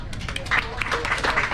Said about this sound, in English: A big head of applause for our Sound of Music